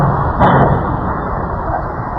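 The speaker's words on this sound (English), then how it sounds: "A second explosion can be heard 9 seconds after the crash." A loud, broad blast of noise from a second explosion after a crash rises briefly and then settles into a sustained, roaring rumble, like a distant explosion echoing.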